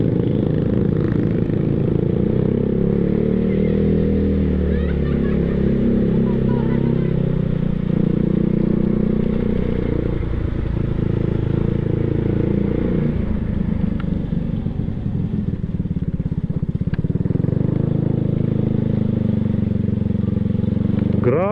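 A Yamaha Mio Sporty scooter ridden along a road, its small engine droning steadily and close with a constant rumble, rattling bodywork and passing road noise throughout.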